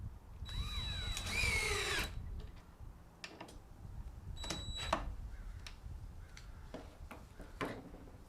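A power drill drives a 1-inch lag bolt with a washer into a table-top stand. Short bursts of whirring ramp up and stop, with clicks and ticks between them, quiet and close.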